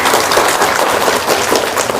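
An audience claps steadily and densely for about two seconds, a loud, continuous wash of many hands with no voices standing out.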